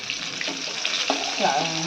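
Pomfret fish fries in a pan for a Bengali fish curry, giving a steady, close broadband sizzle that runs the whole time, with a faint voice briefly underneath.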